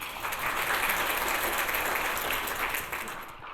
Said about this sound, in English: Let's give a round of applause for all our amazing educators here.